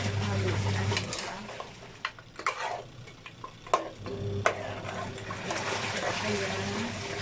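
Food is stirred in a cooking pot, with wet sloshing and a few sharp clinks of a utensil against the pot over a low simmering bubble, while a voice talks in between.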